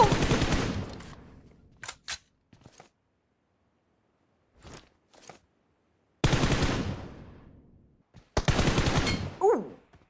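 Video game gunfire in bursts: a long rapid automatic volley, a few scattered single shots and quieter distant pops, then two more heavy sustained bursts near the end.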